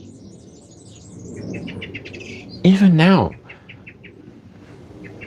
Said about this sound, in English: there's birdsong happening around me.